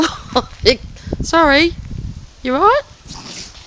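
A small Maltese Shih Tzu dog makes short nasal snorts and sneezes up close, mixed with whiny yips, while its owner talks to it in a soothing voice.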